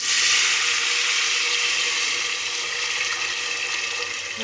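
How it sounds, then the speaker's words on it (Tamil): Water pours steadily into a pan of cooking rice upma with a bright, hissing splash that fades slightly toward the end. "இந்த ஸ்டேஜில் தண்ணி சேர்க்கலாம்."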